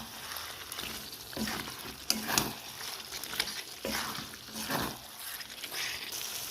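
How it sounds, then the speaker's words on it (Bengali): Chicken cooks down with tomato sauce in a pan, stirred repeatedly so the steady sizzle swells with each scraping pass of the spoon, close and fairly quiet, with no talk. "ভালো করে নেড়ে চেড়ে কষিয়ে নেবো।"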